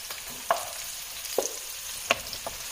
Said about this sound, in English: Now you can add your mushrooms.